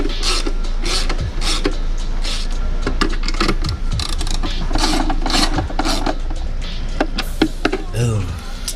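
A ratchet tightens bolts on the air intake of a Honda Civic Type R FK8 during a GruppeM ram air system install, with quick irregular clicking and metallic rubbing close up over a steady low hum.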